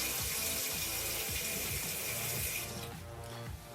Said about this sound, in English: Everybody knows that water comes from the tap